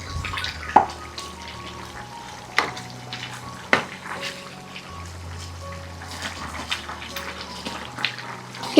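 A chicken curry bubbles and reduces in a pan, a steady close sizzle and simmer with a few sharp clinks and knocks scattered across it, and no one speaking.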